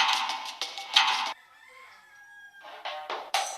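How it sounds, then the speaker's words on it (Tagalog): A rooster crows loudly and close by, its harsh, ragged call repeating in bursts with short pauses between. "tandang pala yan. Manok na tandang"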